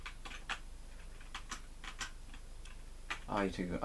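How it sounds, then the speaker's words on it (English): A computer keyboard clacks with irregular, crunchy keypresses while Star Wars Arcade is played on a ZX Spectrum. The taps are faint and scattered, and a voice briefly murmurs near the end. "all you can hear is the crunching of my keyboard"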